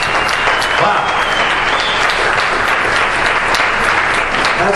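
An audience breaks into a round of applause, with sustained dense clapping at steady loudness from start to finish.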